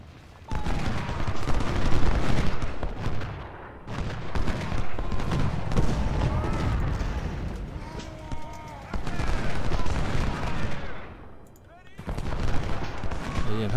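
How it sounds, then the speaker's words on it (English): Artillery cannons fire in the Civil War strategy game Ultimate General: Civil War, giving dense, rolling volleys of booms and gunfire that swell and ease across the clip, mixed with a voice talking over the battle. "Right, artillery. I know you want to have some fun. You haven't had much to do yet, so go ahead and open fire."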